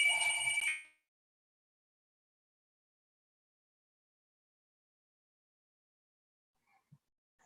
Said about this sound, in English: I don't want to keep talking because my phone is ringing